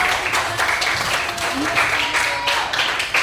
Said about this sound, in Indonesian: Okay, give applause.